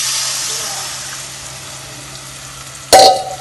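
Tamarind extract poured into a pan of sautéed garlic for a Tamil tamarind rice gravy, a steady broad sizzle that fades slightly, then a sharp louder splash-sizzle near the end, close up with no talk.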